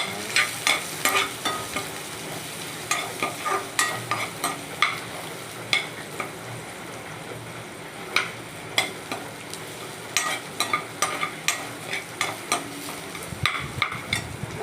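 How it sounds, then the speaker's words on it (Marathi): Garlic dropped into hot oil with sizzling cumin and mustard seeds, a steady close sizzle punctuated by sharp spatula scrapes and clicks as it is stirred, with no talking. "जिरं मोहरी टाकली आपली आता लसूण टाकू"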